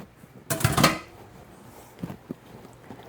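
Dishes and pans clatter as they are set into a kitchen sink while goulash is being cooked, a sharp burst of clanking followed by a few lighter knocks at close range.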